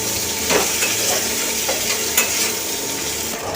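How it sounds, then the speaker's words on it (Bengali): Chopped potato, brinjal and drumstick vegetables fry in hot oil, producing a constant close sizzle with a few sharper stirring scrapes and clinks, and no voice. "এবার কেটে রাখা সবজিটা আমি দিয়ে দেবো এবার সবজিটাকে ভালো করে একটু ভেজে নেবো"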